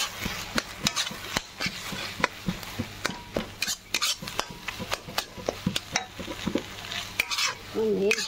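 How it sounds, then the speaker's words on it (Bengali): A utensil stirs beaten eggs mixed with sauce in a frying pan for egg bhujia, scraping and clinking rhythmically against the metal over a soft, constant sizzle, close and busy throughout. "সব ডিম ফাটিয়ে এর মধ্যে দিয়ে এখন নাড়ছে।"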